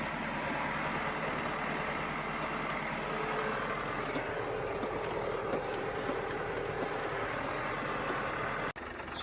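Farm vehicle crawling in its lowest gear through snow while hauling feed to sheep, a steady close engine drone with low rumble that runs unbroken before a brief dip near the end.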